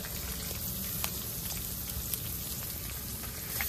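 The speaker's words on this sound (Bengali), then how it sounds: "সবকিছু ভালোভাবে ভেজে নিই" Onion, green chilli and crushed garlic fry in hot oil in a pan, giving a steady, dense sizzle with scattered crackles, close and continuous for the whole stretch with no talk over it.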